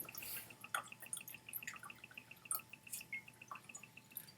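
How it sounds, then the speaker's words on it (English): Antiquity Blue Indian whisky trickles slowly from the bottle as a quiet, irregular run of small drips and splashes into a glass, soft and close. "Oh yeah, it does pour very slowly."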